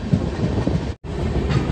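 A train rolling along its rails on an overnight run toward Shirdi gives a close, steady rumble with rattling carriage noise, broken by one brief dropout near the middle.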